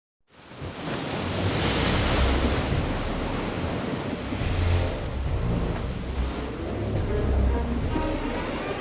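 A ship sets sail across the sea in the video game Final Fantasy War of the Visions, a continuous rushing wash of waves and wind that rises quickly from silence and holds steady and full, with no voices.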